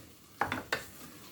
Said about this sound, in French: Moi, je vais mélanger un petit peu.